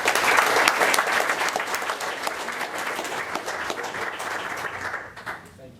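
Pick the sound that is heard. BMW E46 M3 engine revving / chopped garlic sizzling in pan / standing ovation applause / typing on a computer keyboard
standing ovation applause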